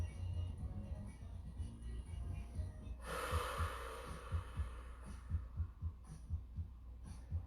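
A slow yoga breath drawn in through the nose, a broad whooshing inhale swelling to a rush about midway, then easing off, heard close over a low steady hum with soft rhythmic thumps.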